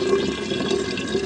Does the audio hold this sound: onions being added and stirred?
no